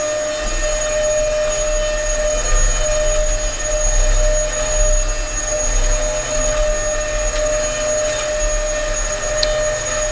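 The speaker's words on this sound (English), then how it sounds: "And now to hoover up." A vacuum cleaner hoovers up after work on a desk, a loud, steady motor drone with a constant high whistle and low rumble that runs unbroken throughout, with no talking.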